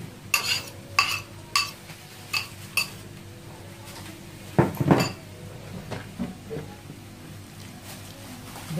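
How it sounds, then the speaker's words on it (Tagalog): Banana cake batter is mixed with powder in a bowl, a utensil clinking and scraping against the dish in rhythmic bursts, close and clear, with no one talking. "Then mix well."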